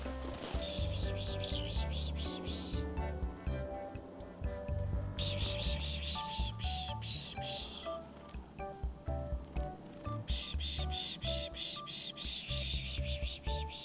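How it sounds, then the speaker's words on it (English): Black-capped chickadees chirp around a sunflower seed bird feeder on a woodland hike, with bright, repeated tweets and calls layered over a busy, continuous backdrop. "the friendliest birds at the bird feeder are the black-capped chickadees"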